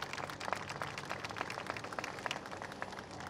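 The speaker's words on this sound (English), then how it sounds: "Can we give them a round of applause" An audience at a groundbreaking event for the San Francisco Conservatory of Music applauds, a dense, even patter of many hands clapping heard from a moderate distance for a few seconds.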